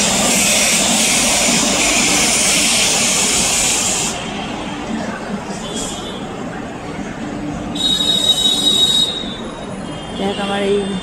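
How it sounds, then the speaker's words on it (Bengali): A long-distance train rolls slowly past, a broad steady rumble with metallic wheel squeals and screeches rising and fading, fairly close, with no talk heard. "আর ট্রেনের আওয়াজটা খুব সুন্দর লাগে।"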